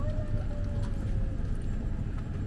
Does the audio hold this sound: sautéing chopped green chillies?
no